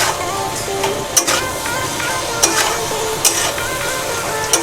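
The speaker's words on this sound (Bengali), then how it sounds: "এবার আমি ভালো করে মশলাটা কষিয়ে নেব।" Spice masala with salt being stirred and fried in a pan for a cabbage and fish-head ghonto, a steady sizzle under repeated scraping strokes and a few sharp clinks of the spatula against the pan.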